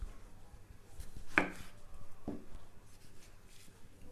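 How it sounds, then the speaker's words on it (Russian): A knife chops a purple onion on a cutting board, two or three distinct sharp taps in a quiet kitchen, close and fairly soft. "нарезала вот такой вот сиреневый лук"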